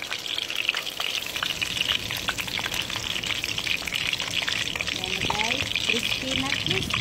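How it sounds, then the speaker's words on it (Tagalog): Chicken katsudon cutlets fry in hot oil with a steady, dense crackle and sizzle throughout, close and even, with faint stirring clinks and a brief murmur of voice near the end. "habang tayo nagpriprito ng ating chicken katsudon"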